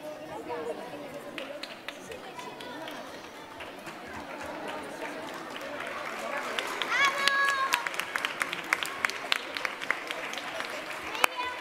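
Scattered applause and crowd chatter at a local event in Marbella, clapping swelling slightly midway with murmuring voices and a brief whistle-like tone underneath.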